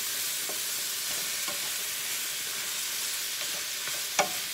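Garlic and onion powder get stirred into a sizzling pan, a continuous frying hiss broken by a few soft utensil scrapes and a sharper clack near the end, with no voices.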